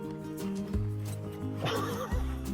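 A donkey that lives with a family in a village brays loudly, a harmonic call with rising and falling pitch in two bursts, close by with no talk.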